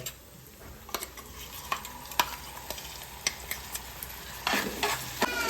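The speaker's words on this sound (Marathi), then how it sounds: "तर गाईज, आता आपण टमॅटो प्युरी टाकूया" Tomato puree added to frying masala for restaurant-style bhindi masala, a low sizzle under repeated spoon clicks and scrapes against the pan, with a louder splattering burst near the end.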